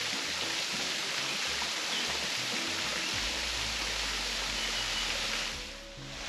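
Steady roar of a waterfall beside a suspension bridge at a Playa del Carmen eco resort, a dense continuous rush of falling water heard close and loud, easing slightly at the very end.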